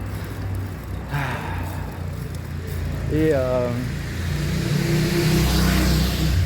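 An electric motor scooter passes nearby with a rising, whirring motor pitch over steady street noise, then fades into a lower hum.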